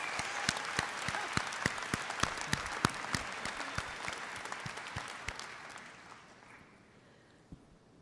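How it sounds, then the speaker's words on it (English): Steady audience applause fills a hall at a teachers' union 100th-anniversary tribute, with dense crisp claps at first that gradually thin out and fade toward the end. "Let's applaud them for marching with us."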